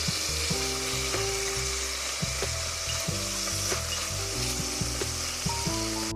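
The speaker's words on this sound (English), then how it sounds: "add in your minced garlic, and we're going to let that saute 1 minute" Minced garlic sautéing in a pot for smothered beef tips, a loud continuous sizzle and crackle with scattered spoon clicks and scrapes against the pot throughout.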